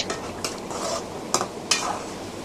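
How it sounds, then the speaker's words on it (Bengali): A spoon scrapes and stirs duck meat curry in a pan after garam masala powder goes in, with a few sharp clinks against the metal over a soft, steady simmering sizzle, close and fairly quiet. "এক চা চামচ গরম মশলা গুঁড়ো দিয়ে ভালো করে আবারও নেড়ে চেড়ে দেব"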